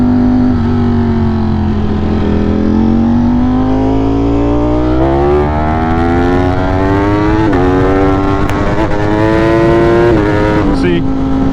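A sport motorcycle in race mode accelerates hard onto a highway, its loud engine climbing through several gears with rising pitch and brief dips at each shift, heavy wind rush throughout.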